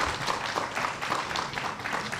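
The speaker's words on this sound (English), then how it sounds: "Round of applause for our mayor, Mayor Lightfoot." Outdoor crowd at a labor monument groundbreaking in Chicago's 9th Ward claps and cheers for the mayor, a continuous, fairly close patter of hands with some whooping.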